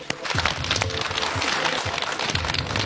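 A studio audience at a Chinese mediation talk show claps to welcome a father onto the stage, a steady wash of moderately loud applause lasting a few seconds.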